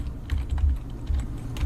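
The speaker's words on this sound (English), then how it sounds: "we'll type in Firebug." Rapid keystrokes on a computer keyboard, a run of close, light clicks in an uneven rhythm over a low background hum, with no voices.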